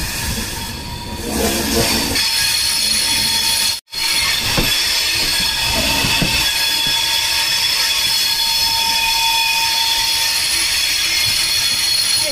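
The Cholan Superfast Express running on rails, a steady close rumble of wheels with sustained high squealing from the track and a brief sharp dropout partway through.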